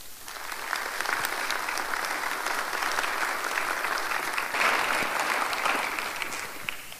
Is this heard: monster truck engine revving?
no